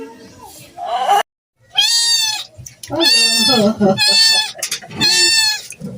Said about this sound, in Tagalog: Hindi ko alam kung kaninong pusa to.